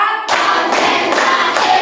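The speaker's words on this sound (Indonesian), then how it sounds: "Tepuk konsentrasi." A primary-school class claps together in a concentration clapping game. Several loud, unison claps land at an even, measured pace, close and bright.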